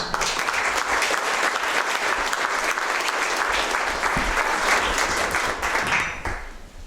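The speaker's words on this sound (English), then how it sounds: "Let's give them a round of applause." Steady applause from a forum audience greets two candidates for Nebraska Legislative District 48, dense and even for about six seconds before tapering off.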